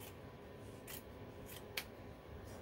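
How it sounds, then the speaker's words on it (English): Scissors snipping through fabric while trimming a punch needle sculpted lettering piece, a few quiet, soft crisp cuts spaced out over a low steady background hiss, with one sharper snip near the middle. "And cut the fabric about this much."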